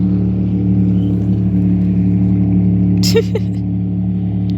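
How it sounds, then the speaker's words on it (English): A boat engine hums steadily on Lake Havasu, a close, even low drone running throughout, with a brief voice-like burst partway through. "This is my engine."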